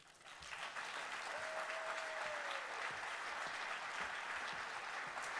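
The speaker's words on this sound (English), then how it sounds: "Let's have another big round of applause for all of our two-night presenters." Faint, distant audience applause at a waste industry conference presentation event, a steady wash of clapping lasting several seconds with a brief tonal whistle early on.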